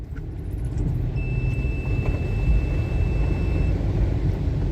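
A Toyota Land Cruiser pushes through a deep flooded road, its engine rumbling steadily under a continuous wash and roar of water, loud and close throughout with a thin whine riding above.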